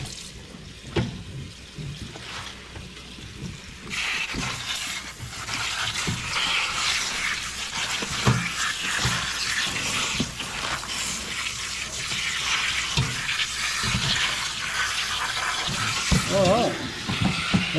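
Running water rinses handfuls of collard greens at a kitchen sink, a steady close splash and gush that starts after a few quiet seconds and continues while someone talks over it.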